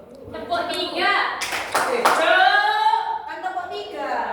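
Several claps ring out near the middle of a classroom clapping game, children's hands striking together among the teacher's and kids' voices.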